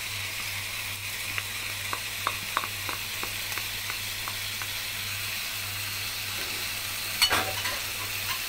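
Vegetables sizzle continuously in a hot pan as peppers are added for a home-cooked sausage tagine, with a steady hiss, a series of faint rhythmic taps, a low hum and one louder clank near the end.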